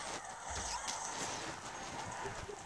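Hog Rider charging in Clash Royale, a quiet run of rapid galloping clip-clop hoofbeats under faint game noise.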